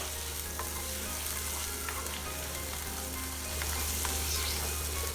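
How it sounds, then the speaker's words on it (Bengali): Prawns and onion fry in oil in a pan, a steady close sizzle with a few faint stirring clicks, growing slightly louder toward the end. "এখন আমি ভালো মতো করে চিংড়ি মাছটা দিয়ে 3 থেকে 4 মিনিট এটাকে একটু ভেজে নিব"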